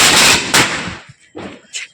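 Two sharp, loud firecracker bangs go off close together during Diwali in a village, followed by a couple of fainter pops fading away.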